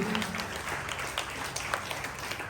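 Audience at a VBS final program claps for the volunteers, a fairly quiet, steady patter of many hands spread through the room.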